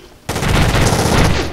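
Dense burst of automatic gunfire erupts after a brief quiet moment and rattles on continuously, loud and close, in the tactical shooter Rainbow Six 3.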